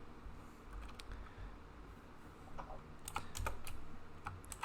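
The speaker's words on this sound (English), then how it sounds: "Mic's in the way and it's making it hard to type." Clattery keystrokes on a computer keyboard come in irregular bursts, growing busier and louder toward the end, over a low steady background hum.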